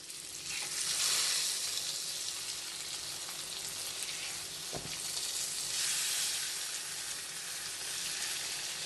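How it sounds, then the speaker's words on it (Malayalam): Pieces of fish fry in hot oil in a pan, giving a loud, steady, close sizzle that crackles continuously throughout. "നമ്മൾ ഫ്രൈ ചെയ്യാൻ വെച്ച സാധനം നമുക്കൊന്ന് തിരിച്ചിട്ട് കൊടുക്കാം."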